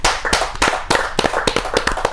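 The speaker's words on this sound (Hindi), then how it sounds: "आचार्य प्रवर को जोरदार ताली के साथ आचार्य प्रवर।" A poetry-gathering audience claps loudly to welcome a speaker. Dense, rhythmic clapping sounds close and strong throughout, with no talking over it.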